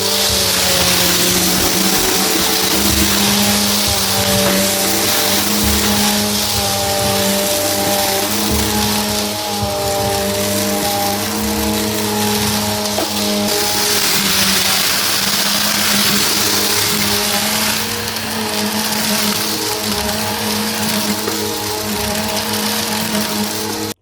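A Bissell CleanView 4438 Pet upright vacuum cleaner runs steadily while cleaning along edges, a loud close motor hum with a stable whine and slight shifts in pitch, no talking.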